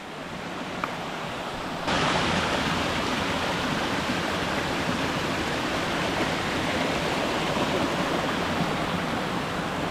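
Steady broadband roar of a waterfall on Whitaker Creek in the Upper Buffalo Wilderness, quiet at first then swelling abruptly into a loud, constant rush that fills the rest of the clip with no voices.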